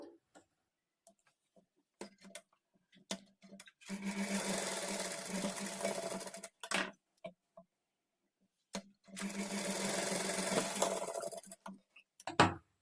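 Sewing machine stitching the shoulder joint of a blouse in two steady runs of a few seconds each, close and even, separated by quiet clicks and handling taps.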